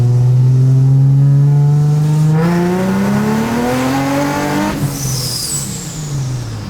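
Infiniti G35 car accelerating hard, engine note climbing steadily as it pulls through the revs with a clutch-slip check, loud and close, then a shift and a brief tire-like squeal near the end.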